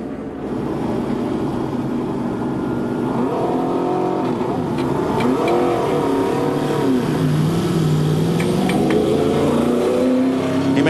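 NASCAR Sprint Cup car at Daytona International Speedway pulling off pit road under caution in the 2014 Daytona 500, a loud steady engine drone whose pitch rises and sweeps through gear changes, with other race noise around it.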